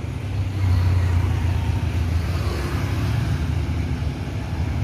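A Palala intercity bus on the Padang–Jakarta route passes close by. Its heavy engine rumble swells in the first half-second, then holds loud and steady as it rolls past.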